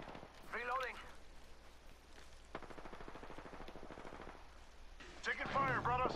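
A rapid burst of video game gunfire rattles steadily for about two seconds in the middle of the clip. Voices talk over the game audio before and after it.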